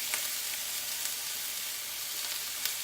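Chopped onion frying in a hot pan with chicken seasonings, a steady close hiss of sizzling oil with faint occasional crackles and stirring.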